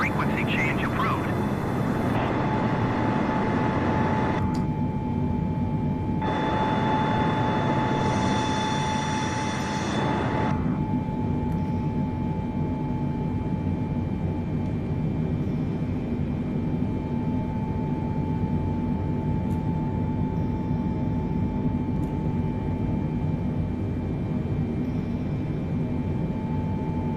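Boeing 747 airliner engines droning steadily in flight in a flight simulator game, a broad continuous roar with a high whine, with a brief change in tone early on, and a voice talking over it.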